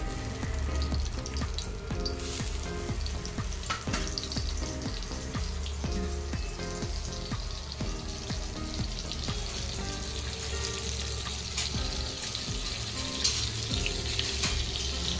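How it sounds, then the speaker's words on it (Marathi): Oil and Amul butter sizzle in a hot kadai, a steady dense crackling fry with fine popping that continues loud and unbroken throughout, no talk. "यात मी 2 चमचे तेल आणि अमूल बटर,"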